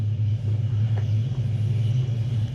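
An old vehicle's engine rumbles steadily at a low, throaty idle, close and fairly loud, with no talking over it.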